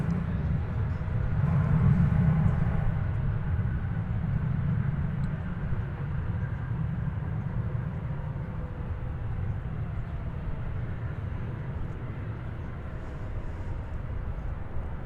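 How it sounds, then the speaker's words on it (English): A Lufthansa Airbus A340 arriving from Frankfurt at Dallas Fort Worth, a steady low engine rumble that holds at an even moderate level throughout, swelling slightly near the start. "Lufthansa is coming in from Frankfurt. It operates I think the A340 comes in 4 days a week"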